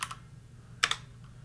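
Two quick bursts of key presses on a computer keyboard while code is written: a short pair of clicks at the start, then a sharper, louder double tap, close and isolated against quiet room hiss.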